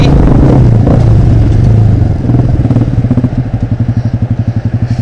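A Yamaha Fazer motorcycle with an open exhaust roars loudly up close, holding a rough, heavy rev before settling into a fast, pulsing, throaty idle.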